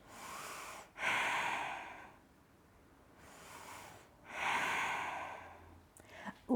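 Slow, deep breaths held during a yoga bridge pose, two long audible exhales roughly three seconds apart, close and soft, with a faint rustle at the end.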